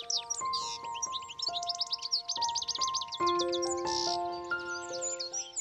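Small red-headed birds with yellow wings at a feeder give rapid, high twittering chirps in busy bursts, set against sustained musical tones.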